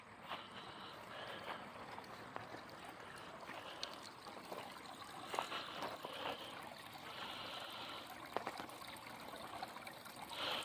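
Water trickles and splashes steadily down the rocks of a backyard pond waterfall, a continuous near burble with small bright splashes and no talking.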